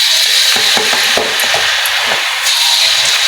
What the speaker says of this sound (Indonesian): Dan minyaknya pun udah panas, Irma lanjut menggoreng.